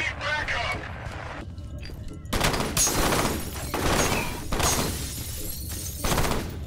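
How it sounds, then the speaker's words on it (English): Dense bursts of gunfire and shattering impacts from a firefight in the horror shooter F.E.A.R., loud and overlapping in rapid volleys with a player's voice talking over the action. "Who's shooting?"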